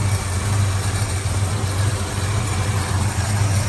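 A Valiant Charger engine running on full choke, a steady loud low rumble that stays close and even throughout with no voices.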